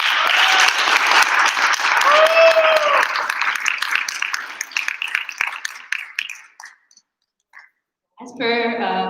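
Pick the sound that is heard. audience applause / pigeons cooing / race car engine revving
audience applause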